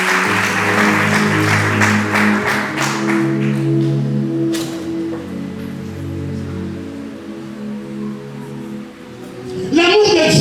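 Church congregation applauding during a Sunday worship service to acclaim the Lord, sustained dense clapping layered over steady organ or keyboard chords, with a brief louder swell near the end.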